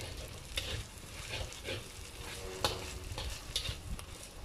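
Rice noodles stir-fried in a wok with sambal paste and eggs, a steady close sizzle broken by scraping stirs and occasional sharper clatters of the spatula, with no voice over it.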